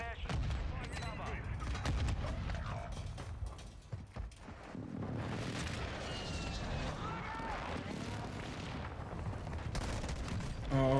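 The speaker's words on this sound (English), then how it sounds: "Enemy precision airstrike." Call of Duty Warzone battle sounds: a precision airstrike and gunfire rumble through deep explosive booms and crackling bursts of shots, dense and continuous. Game voice callouts and effects are layered over the fire throughout.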